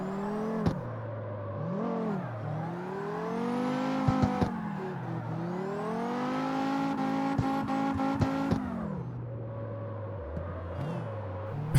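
A powerful swapped-in engine in a tiny sports car, heard from inside the cabin, revving up and down in long sweeping pitches with brief shifts between, loud and continuous, no talking.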